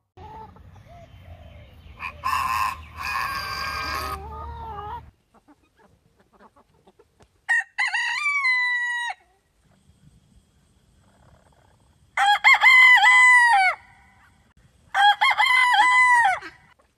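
Ornamental roosters, including Poland chickens, crow in several separate bursts, each a loud, long drawn-out call with pauses between, following an opening stretch of clucking and noisy fowl calls.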